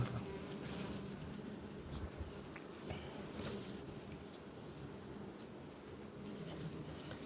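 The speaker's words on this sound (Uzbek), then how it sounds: "Har kun ariga kelyapmiz." Dense, steady hum of many honeybees swarming around beehives, a continuous close buzz filling the whole stretch with small fluctuations and no talking, at an apiary near cotton fields.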